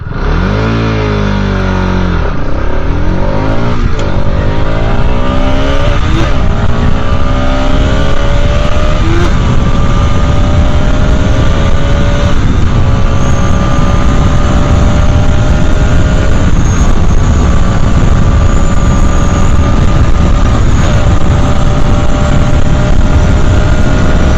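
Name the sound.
Bajaj Pulsar RS 200 motorcycle accelerating through gears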